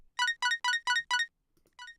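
Short filtered synth lead playing a quick off-grid triplet arpeggio, five bright plucked notes in a burst, a gap, then one more, fairly faint and alone with no other instruments.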